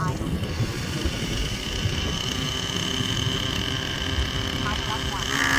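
A Nimbus Nitro RC helicopter's nitro engine idles with a steady, loud, buzzing drone that holds even throughout, with a slight rise toward the end.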